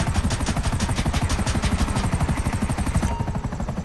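A helicopter's rotor in Grand Theft Auto Online thumps in a fast, steady chop, loud and continuous, with a mechanical whir beneath it.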